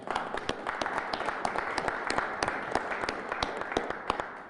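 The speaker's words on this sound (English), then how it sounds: "Let's give them a round of applause." Steady applause from a room full of people at a City of Springfield ceremony, many hands clapping continuously at moderate volume.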